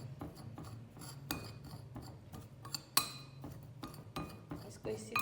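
A spoon clinks and scrapes against a bowl in quick, uneven strokes as boiled corn is mixed with spices and black salt in a home kitchen, fairly close and moderately quiet.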